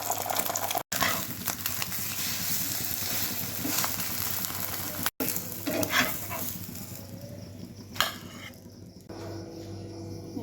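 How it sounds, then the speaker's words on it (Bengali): An egg fries in butter with onion and chili, sizzling steadily up close, with occasional clinks of a utensil against the pan and a short pause partway through. "পেঁয়াজ মরিচ দিয়ে আর ডিমটা ভাজতেছি"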